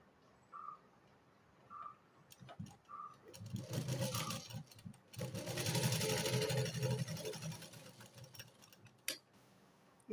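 A sewing machine puts a double row of stitching through fabric pieces for a blouse cup, running in short bursts and then a longer steady whir, fairly close.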